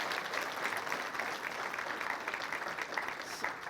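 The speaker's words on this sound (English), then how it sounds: "Give him a round of applause." Steady applause from a conference audience at a business event in Missouri, a dense continuous patter of many hands clapping throughout at even loudness, with no voices over it.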